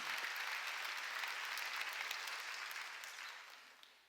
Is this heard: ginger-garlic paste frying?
no